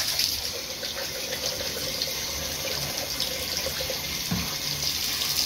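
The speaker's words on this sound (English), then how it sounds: "I just turn on a little bit of flow from the faucet." Water runs steadily from a faucet rinsing aquarium carbon, a constant close splashing hiss with faint gurgles, uninterrupted throughout.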